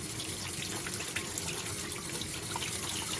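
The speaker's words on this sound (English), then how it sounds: "With the water going." Tap water runs steadily into a sink while a shaving bowl is cleaned, a close, even hiss of flowing water with no talking.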